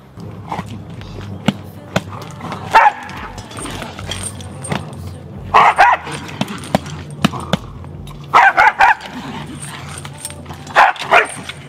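A fearful female dog barks in short bursts nearby, three or four clusters of sharp yips and barks as a leash is handled, with rattling and jingling sounds in between.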